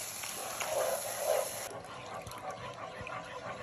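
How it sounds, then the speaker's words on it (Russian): Boiling water poured into a pan of lightly browned flour for Azerbaijani quymaq, a steady close trickle and hiss that swells briefly and then settles into a softer bubbling pour. "И сразу наливаем кипяток."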